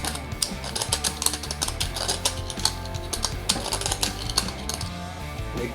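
A swivel deburring blade worked around the inside edge of a cut round tube, giving a close, busy run of scraping clicks and ratcheting ticks over several passes, with no talk.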